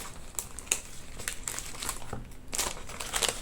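Sticker packaging is handled close up, giving irregular crisp crinkles and crackles of plastic that rise and fall over a few seconds.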